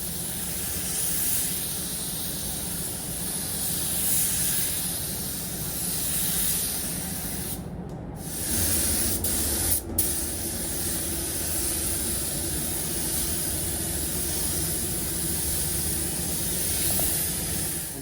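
A paint spray gun hisses steadily and close up while laying base coat on a 2023 Ford Ranger, a continuous airy spray with a couple of brief pauses and no talking.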